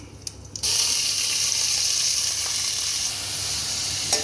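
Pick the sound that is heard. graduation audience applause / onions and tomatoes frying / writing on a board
onions and tomatoes frying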